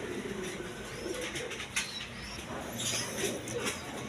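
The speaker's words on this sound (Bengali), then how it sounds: "দর্শকবৃন্দ এখানে এক পেয়ার কালারিং রাজগোল্লা কবুতর আছে" A pair of big, sky-blue coloured Raj Golla pigeons coos faintly in low murmuring calls, with light rustles and scattered soft clicks in a quiet space.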